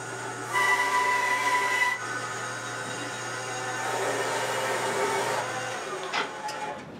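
A bandsaw cutting a wooden guitar neck blank in a workshop, a steady mechanical drone with a low motor hum that swells while the blade is in the wood and trails off near the end, with no talking.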